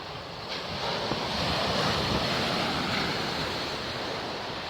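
Stormy sea in Feodosia, Crimea, with surf breaking under a strong gale of about 25 m/s. The roar is loud and continuous, waves wash steadily, and heavy wind buffets the microphone throughout.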